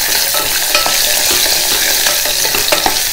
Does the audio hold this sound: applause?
no